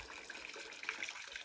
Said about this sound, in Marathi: गौमुखातून वाहणारं पाणी.